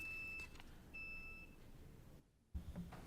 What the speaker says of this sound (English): Got beeping going on.